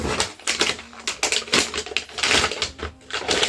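Cardboard advent calendar door torn open by hand, a few close, crisp tearing and crunching bursts with brief pauses between them, heard alone.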